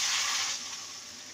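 Water poured into a pan of pumpkin and potato curry, a steady broad splashing rush that is loudest at the start and eases slightly toward the end, with no talking.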